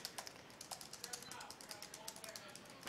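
Rapid, light clicking of fingers typing on a computer keyboard, a quick irregular run of small taps that stays faint and close throughout.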